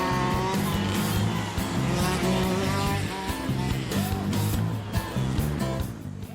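Race cars spinning out mid-race, engines droning loudly throughout with tire squeal and skidding mixed into a dense, continuous roar of several vehicles.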